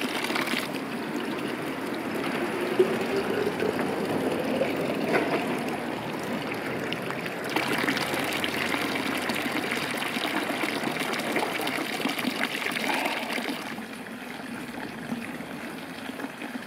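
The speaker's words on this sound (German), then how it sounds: "da vorne ist ein Brunnen. Da werde ich meine Flasche jetzt noch füllen" Water from a village fountain pours steadily into a bottle, a continuous close gushing and trickling that lasts throughout with no talk.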